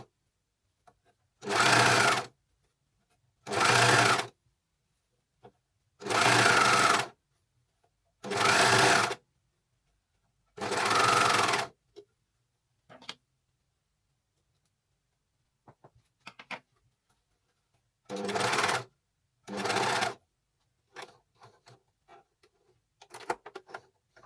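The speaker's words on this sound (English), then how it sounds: "Seam allowances are down, and we're going in the round, overlapping the first and the last stitch." Sewing machine stitching an armband seam in the round on a McCall's 6886 garment: close, steady whirring runs of one to two seconds, five in quick succession and two more later, with faint clicks and handling noises in the pauses.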